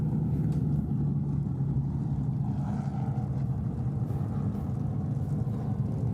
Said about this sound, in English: So as these cars rumble under caution here